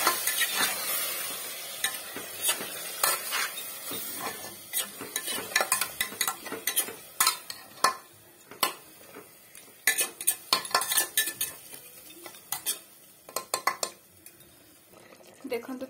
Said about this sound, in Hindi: वर्तमान आमे मैरिनेट करथिबा चिकन टी को देखंतु ताथिरे पकेई नबा।